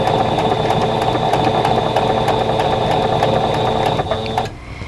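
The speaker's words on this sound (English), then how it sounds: "So I'm just going to sew right on the drawn line." A sewing machine stitches quilt fabric along a drawn line, running in a steady, close, loud whirring rhythm that stops just before the end.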